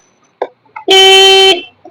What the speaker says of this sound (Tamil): இது ஹாரன். இது ஹாரன்.